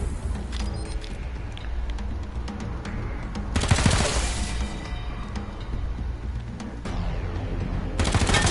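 Gunfire rattles in Wasteland 3 combat, with scattered shots and a couple of louder bursts at mid distance over a busy game soundscape, and no one talking.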